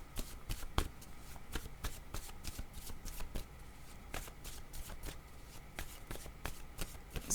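Tarot cards are shuffled close up in a continuous run of quick riffling slaps and soft card clicks, a steady irregular rhythm at low volume with no voices.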